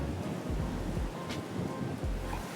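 Strong gusty wind buffets the microphone on a golf course, a continuous loud roaring rush with low thumping bursts throughout.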